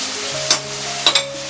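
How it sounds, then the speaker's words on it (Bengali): Fried pointed gourd pieces stir-fried in oil-released spice paste, a steady close sizzle broken by three short scraping stirs of the spatula. "এই মশলার সঙ্গে একটু কষে নেব।"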